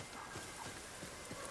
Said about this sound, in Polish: Tam jest koń.